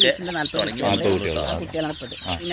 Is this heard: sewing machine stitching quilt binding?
no